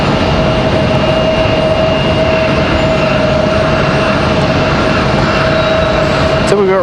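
Republic Airways and Frontier airliners at Raleigh Durham International Airport make a loud, steady engine roar with a sustained whining tone running through it, close and continuous.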